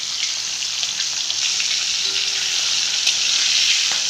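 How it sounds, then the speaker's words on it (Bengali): Fish fry lightly in hot oil in a wok, giving a steady, close, bright sizzle that stays even throughout with a few small pops. "আমাদের কড়াইয়ে তেল গরম হয়ে গিয়েছে। মাছগুলোকে এপিট ওপিট করে হালকা করে একটু আমরা ভেজে নেব।"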